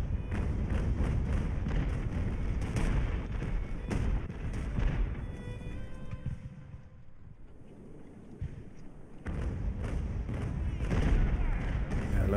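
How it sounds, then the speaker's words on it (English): Cannon broadsides from sailing warships in a naval battle in Ultimate Admiral: Age of Sail, heard as repeated heavy booming thuds over a rumbling, wind-like wash. The fire is loud at first, eases off midway, then swells again. "If I can get both my ships firing decent cannon shots"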